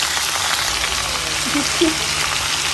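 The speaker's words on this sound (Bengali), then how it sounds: "এবার দিলাম পুঁই শাকের চচ্চড়িগুলো, ডান্ডাগুলো আর কি, পুঁই শাকের ডাঁটাগুলো দিলাম।" Malabar spinach (pui shak) stems frying in a pan give a dense, even hiss that holds steady throughout, close, with a faint low murmur underneath.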